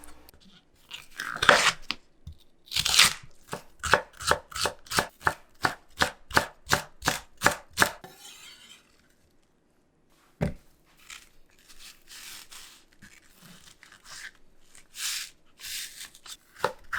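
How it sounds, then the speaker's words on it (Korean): Knife chopping celery and green onion (daepa) on a cutting board, a fast run of about a dozen crisp, evenly spaced strokes up close, then a pause and softer scattered cutting and rustling. "샐러리와 대파도 다져요."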